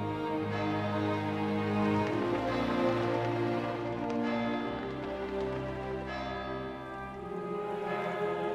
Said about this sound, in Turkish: çan çalıyor